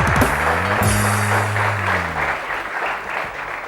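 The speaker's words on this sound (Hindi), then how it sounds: "बहुत सारी तालियां उनके लिए" Studio audience applause on a Pakistani TV morning show, a steady burst of clapping with a sustained musical tone underneath early on that fades, leaving the claps alone.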